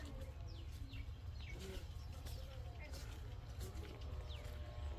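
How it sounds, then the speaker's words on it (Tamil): Crow and sparrow calls ring out around a traditional clay-tiled house near Thiruvannamalai, several quick, faint chirps scattered over a low background rumble, with voices murmuring faintly beneath. "தெரியுதா காக்கா சத்தம் குருவி சத்தம்"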